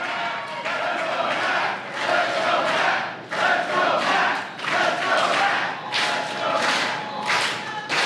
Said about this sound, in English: Getting the clap going is Brannigan with all the momentum.